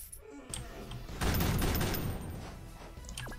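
Roblox gunfire during an Area 51 raid, a dense burst of rapid shots breaking out after about a second and rattling on loudly to the end, with a sharp synthetic zap near the close.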